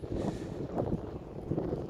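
Gusty wind on Fuerteventura buffeting the microphone in low rumbling surges, steady and fairly loud, with no voices.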